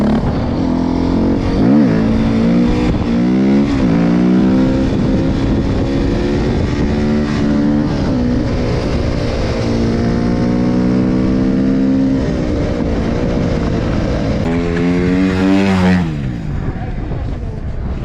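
A KTM motorcycle revving hard in sixth gear, a loud, close engine whine with rising and falling pitch sweeps throughout, with a brief drop and a renewed surge near the end.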